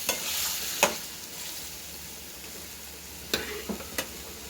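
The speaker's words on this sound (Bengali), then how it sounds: "মটনটা কষানো হোক" Mutton for biryani sizzling in a pan with spices, with a steady frying hiss and a few sharp scraping clicks of a spoon stirring it, fairly quiet and close.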